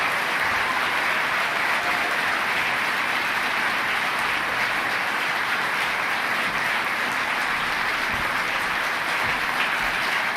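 Sustained audience applause welcoming Secretary Pete Buttigieg at a National Legislative Summit, a dense, steady roar of many hands clapping at even loudness throughout, with no voices over it.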